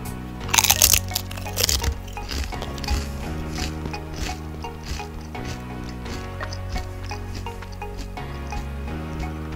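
Paqui Haunted Ghost Pepper tortilla chips crunching in close bites, a sharp burst of loud crackles followed by steady, rhythmic chewing crunches.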